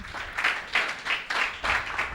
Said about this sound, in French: Est-ce qu'on ne va pas applaudir ça, s'il vous plaît?